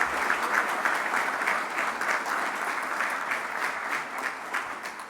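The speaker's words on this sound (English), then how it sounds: "Let's give them a quick round of applause." An audience at a fire and EMS class graduation gives staff a round of applause, steady even clapping from a seated crowd, slightly distant in a hall, fading toward the end.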